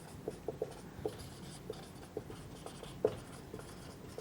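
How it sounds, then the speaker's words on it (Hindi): A topic name being written during a lecture, faint scratchy strokes in short irregular bursts over a quiet background with no talk. "टॉपिक का नाम मैं लिख देता हूं"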